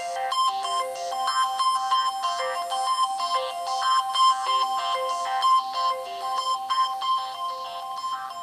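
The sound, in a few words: Samsung Galaxy Nexus stock ringtone Perseus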